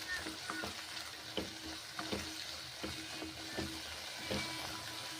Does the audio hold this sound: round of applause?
no